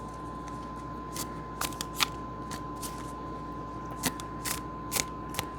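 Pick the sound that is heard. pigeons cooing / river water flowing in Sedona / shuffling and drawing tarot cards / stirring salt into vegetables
shuffling and drawing tarot cards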